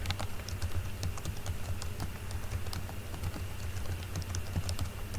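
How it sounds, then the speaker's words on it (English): A new password is typed on a computer keyboard: a dense, steady stream of close, crisp key clicks running for several seconds over a faint hum, with nobody speaking. "I didn't type the password incorrectly again"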